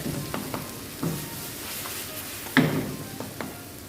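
Eggplant is stirred into tomato masala in a pan for baingan bharta, giving a steady low sizzle broken by several soft scrapes and one sharper knock of the spoon.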